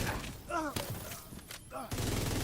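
Bursts of automatic gunfire in a video game raid, fired in a quick volley partway through and then again toward the end, loud against background game noise with speech-like chatter.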